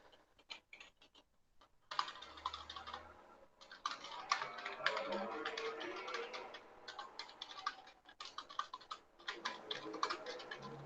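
Someone types on a poor-quality computer keyboard during a lecture, rapid clicking keystrokes in bursts with short pauses, close and moderately loud.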